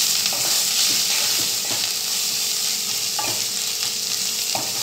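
Turmeric, chili powder and spices fry in a pan while being stirred, giving a steady close sizzle with intermittent scraping strokes throughout.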